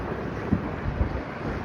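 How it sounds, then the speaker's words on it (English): Strong wind roars steadily across the microphone at a riverside walk in Jenks, Oklahoma, a constant loud rumble with a few heavier gusts and no voices. "Very windy day."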